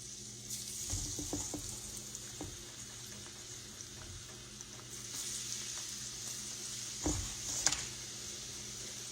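Eggplant cubes fry in hot grease with a steady, faint sizzle, while a few louder pops and splashes rise briefly near the start and again toward the end.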